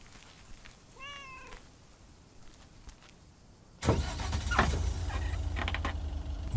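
Cats meowing in the video game Lake, a short series of rising and falling mewing calls heard faintly, followed by a loud, sustained car engine rumble that swells in and continues to the end.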